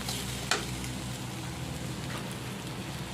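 Crushed garlic cloves and ginger paste are stirred in a hot pan. A soft, continuous sizzle plays with a low background hum and a sharp spatula scrape or clink near the start, and nobody speaks.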